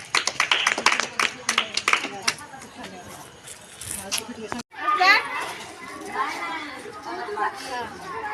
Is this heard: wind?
no